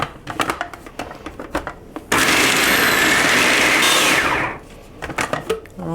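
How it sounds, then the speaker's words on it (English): A kitchen blender whirs loudly and steadily for about two and a half seconds, blending a vegan chocolate peanut butter mixture for peanut butter cups, with brief handling knocks before and after. "So now I'm going to give this a good blend."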